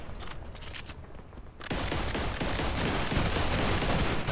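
Gunshots in Modern Combat 5, a quicker string of shots giving way to a thick, continuous stretch of rapid fire, loud and close with no speech over it.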